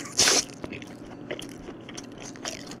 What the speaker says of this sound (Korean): 이 살을 씹는 소리가 아삭하게 착 들어가야 돼요